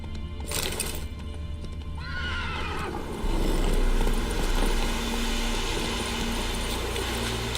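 A horse in a video game whinnies and gallops. Loud neighing comes first, then steady clip-clop hoofbeats over continuous game background sound.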